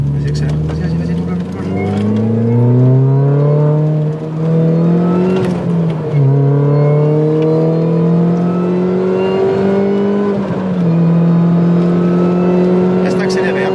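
A car engine climbs in pitch through the gears as it accelerates to overtake, rising whine dropping at each shift, heard from inside the cabin with an instructor's voice talking over it.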